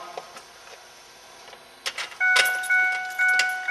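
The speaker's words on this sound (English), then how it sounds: "turn the key to the position on" A few light clicks and jingles as a truck's ignition key is turned to on without starting the engine, then a series of electronic chimes and beeps come on and repeat in pulses, close and fairly loud.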